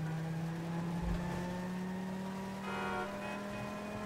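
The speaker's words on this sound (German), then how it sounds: "Das Auto hört sich schon ein bisschen gekränkt an." A damaged car engine in Grand Theft Auto V, its hood missing, drones steadily with a rough, strained hum and whining overtones, briefly rising in pitch before settling again.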